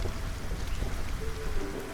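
Rain hisses steadily in the Against the Storm video game, a dense wash of falling drops with a low rumble beneath, continuous and fairly loud, with no voice over it.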